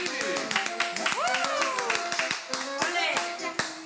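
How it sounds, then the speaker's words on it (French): Lively hand clapping from a small family group, children's voices among them, with brisk, uneven claps close by and excited talking and calls over the applause. "applaudissement"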